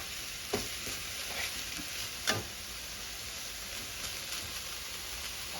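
Pork naem stir-fries in oil in a pan, giving a steady soft sizzle with a couple of faint scrapes or taps from stirring, quiet and close with no voices.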